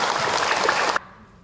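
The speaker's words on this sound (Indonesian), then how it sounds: "Tepuk tangan buat beliau." A dense crowd applauds loudly and steadily during an Islamic sermon on marriage, then the clapping cuts off abruptly, leaving near silence.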